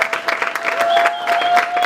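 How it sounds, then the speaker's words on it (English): Short burst of audience clapping at the Zim Excellence Awards 2018 ceremony, moderately loud and uneven, with a faint sustained tone running beneath the applause. "If you give me a round of applause."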